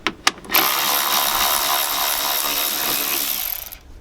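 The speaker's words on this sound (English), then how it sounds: "Now we just have two 10mm bolts to remove" A power tool spins out a 10mm bolt on the undercover of a 2020 Nissan Altima. A few ratchet clicks come first, then a steady close whir of about three seconds that stops abruptly.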